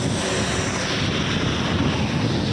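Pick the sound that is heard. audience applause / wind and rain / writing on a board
wind and rain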